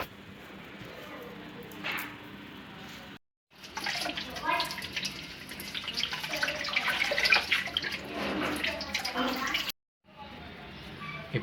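Running water from a tap rinsing fresh-cut mint leaves in a kitchen, a steady near splash that cuts out briefly twice, with speech over parts of it.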